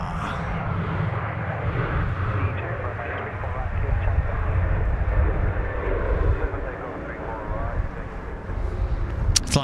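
A fixed-wing airliner lands at Sydney Airport, its engine roar swelling and holding loud across the stretch with wind buffeting the microphone, while people talk over it throughout.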